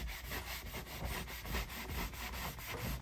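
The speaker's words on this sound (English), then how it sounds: "I'm just trying to scrape it off" Paint being scraped off the wooden trim of a Target bookcase, a rapid, regular back-and-forth rasping stroke repeated about a dozen times, close and loud with no talk.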